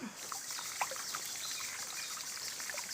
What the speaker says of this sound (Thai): ผมมาล้างรากให้มันสะอาดกันเลยครับ